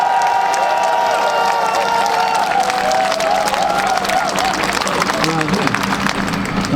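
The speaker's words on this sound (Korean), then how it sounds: "박수 한번 좀 보내주시기 바랍니다." A large crowd at a political rally claps steadily, with cheering and shouts mixed in, loud and continuous throughout.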